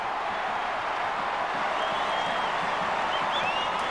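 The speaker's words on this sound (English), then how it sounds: "if you can hear the crowd, it's certainly the most excited that I've heard them in a very, very long time" An excited crowd roars continuously at a 2001 Australian football match between Adelaide and Fremantle after a goal, a dense, steady wall of cheering with a few faint whistles rising above it.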